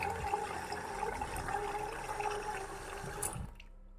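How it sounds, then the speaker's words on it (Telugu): Small electric water pump on an Arduino plant-watering setup runs and pushes out water, a steady close trickling flow that cuts off abruptly near the end. "ఇక్కడ చూడండి మోటార్ నుంచి వాటర్ ఎలా వస్తుందో"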